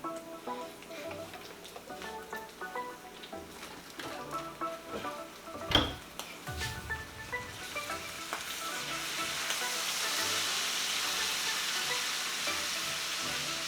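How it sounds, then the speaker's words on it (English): Beef in a spicy chili and soy sauce sizzles and simmers in a pan, a soft steady frying hiss with scattered clicks of a utensil stirring, one sharp clatter, and the sizzle swelling later on. "Let it simmer until it's almost dried up"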